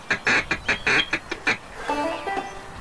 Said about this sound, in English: Quack, quack. I think I hear them.